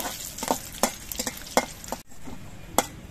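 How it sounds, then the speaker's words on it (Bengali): Oil sizzles with a crackling hiss as whole garam masala and cumin seeds fry while a utensil stirs, giving several sharp scraping clinks at an uneven pace. "এবার মশলাগুলো ভেজে নেব।"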